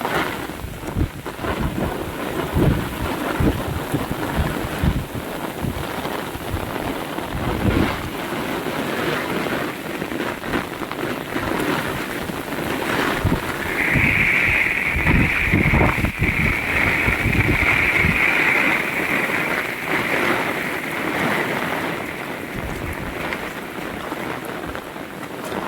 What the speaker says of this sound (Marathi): पाऊस बघा, वादळ पण आहे, वारा मोठा आहे